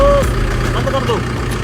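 A tractor engine idles with a low, steady mechanical rumble close by for a short stretch, with a brief whistle-like tone near the start.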